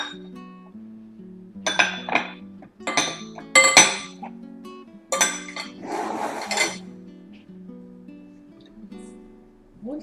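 Whole wheat banana bread batter mixed in a bowl, with a utensil clinking and scraping against the sides in irregular bursts, close and fairly loud, with quiet stretches between strokes.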